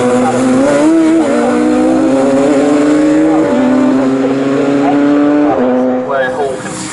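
Class A racing cars on slick tyres at Snetterton circuit, a loud close engine drone holding a steady pitch with brief drops at gear changes, building again toward the end.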